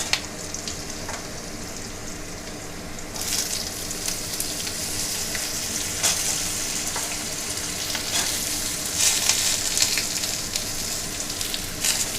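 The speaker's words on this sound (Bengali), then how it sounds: "একটু লাল করে ভেজে নিতে হবে আলুটা।" Potatoes fry in hot oil with black cumin seeds while cooking a spinach dish. The sizzle is steady and close, with soft crackles and occasional scraping as they are stirred, and it grows a little louder partway through.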